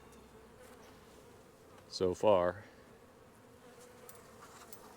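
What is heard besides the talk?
honey bees buzzing on a hive frame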